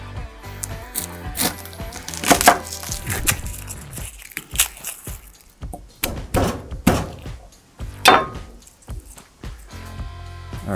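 Onions being sliced with a knife on a cutting board give irregular, close thunks and crisp chops, with some soft squishy handling noise between cuts and no voice.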